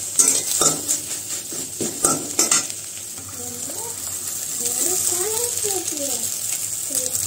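Rice is stirred and mixed in a sizzling pan, with several sharp utensil scrapes and clinks early on over a steady frying hiss, while a person talks in the later part.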